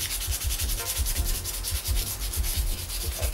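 Steady back-and-forth scratching of sandpaper rubbing a surface, close up, in quick rhythmic strokes with no voices.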